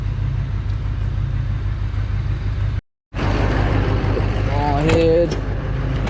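An old 6.0 diesel truck engine cranks, drops out briefly, then fires up and runs loud and steady at high idle with the PTO engaged, while someone speaks briefly over the rumble.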